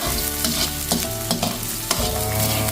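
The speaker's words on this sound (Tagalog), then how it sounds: "Igisa na po natin ang ating bawang, sibuyas, tsaka luya." Garlic, onion and ginger sauté in oil in a pan, a loud, close, dense sizzle broken by repeated clanks and scrapes of a utensil stirring against the pan, with no voices.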